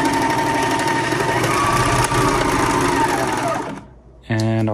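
An overlock serger sewing machine finishes the edge of T-shirt fabric with a steady, loud mechanical whir, then slows and stops; after a short pause it starts again briefly.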